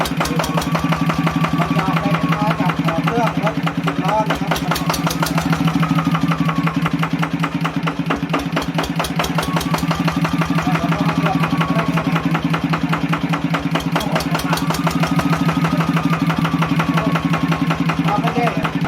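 A ZT180 engine idles steadily with a rapid, throbbing exhaust pulse throughout, loud and close, with no pauses.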